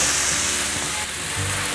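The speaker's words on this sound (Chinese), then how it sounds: "红萝卜泥炒至变色了，现在放入丝瓜" Carrot purée stir-frying in a pan, a continuous close hiss and sizzle with faint stirring, just before luffa is added.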